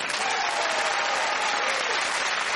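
Loud, dense applause from a studio audience at a Christmas-special comedy panel show, a steady wash of clapping that holds at full strength throughout without pause.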